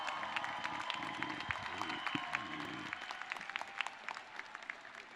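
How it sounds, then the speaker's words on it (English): A commencement audience at a business college graduation claps in a dense round of applause that thins into scattered, distinct hand claps. It is heard from a distance and fairly faint. "Oh, don't stop there. Keep clapping."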